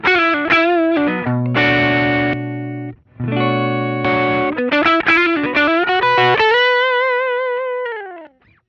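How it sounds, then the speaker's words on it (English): Electric guitar run through a custom Wampler effects pedal on a pedalboard, playing loud distorted chords and phrases with modulated, chorus-like shimmer, ending on a sustained bent note that fades out alone. "I've got a custom Wampler pedal under there"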